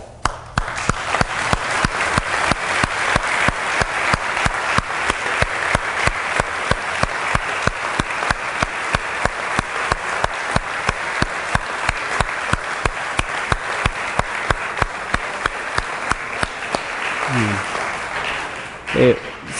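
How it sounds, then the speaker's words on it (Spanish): Church congregation applauding during a sermon, long steady applause with a rhythmic beat of hand claps throughout, fading near the end, with some voices underneath. "Darle un aplauso."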